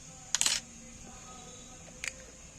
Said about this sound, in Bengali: আমি ডিমটাকে একটা ডিমকে ফাটিয়ে দিচ্ছি